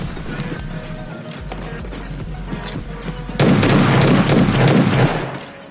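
Gunfire in the mobile shooter PUBG Mobile Lite during a close fight, a run of sharp shots crackling over steady game ambience, swelling into a loud dense burst of firing in the final seconds.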